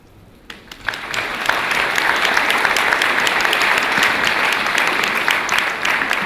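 Audience applause at a District 7 candidate forum, starting after a short pause and swelling into steady, dense clapping from a full room that holds loud and even to the end.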